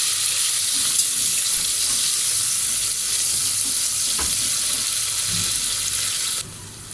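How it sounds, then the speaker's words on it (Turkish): Onion and garlic fry in hot vegetable oil in a pot for a chicken and cornmeal soup, a loud, dense, continuous sizzle close by that drops slightly in level near the end, with no talking. "Sıvı yağımı koydum. Soğanımı, sarımsağımı da koydum."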